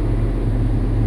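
A Cat 988H front end loader's diesel engine, a loud, close, steady low rumble that continues without a break for the whole moment, with no voice over it.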